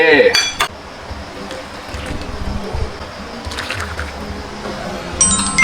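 A ladle clinks and scrapes against a pot while stewed pork-stuffed cabbage is served into a bowl, with a few sharp metallic clinks at the start and end over quiet wet shuffling, no speech.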